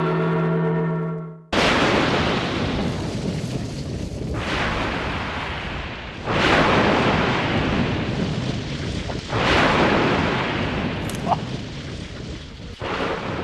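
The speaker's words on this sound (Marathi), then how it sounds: "मुघलांचा तोफखाना पुरंदरवरती आग ओकतोय." Dramatized Mughal cannon artillery fire pounding a hill fort: after a brief tonal opening, several huge booming blasts land a few seconds apart, each rolling into a long, loud rumbling decay.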